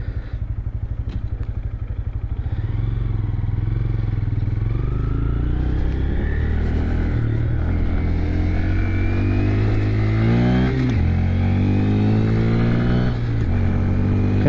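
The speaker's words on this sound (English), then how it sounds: "Gonna go for a little ride on the Grom today." A 2022 Honda Grom motorcycle revs and accelerates while riding, its engine note rising and falling through gear changes, loud and close with steady wind noise underneath.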